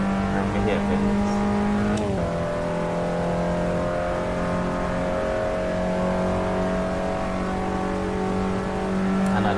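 An Abarth 500 engine drones at steady high revs on the Monza circuit in Assetto Corsa, with a brief shift or rev change near the start. The tone is continuous and loud throughout, with no tire squeal standing out clearly.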